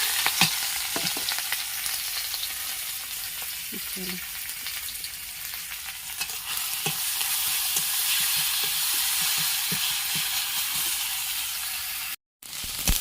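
Cabbage hitting hot oil in a wok gives a continuous loud sizzle and hiss, with scattered taps and scrapes of stirring, ending in a brief cut of silence.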